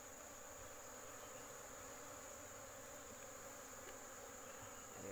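Asian honey bees (Apis cerana) buzz at their nest during comb removal, a faint, continuous, even hum of many wings with no breaks.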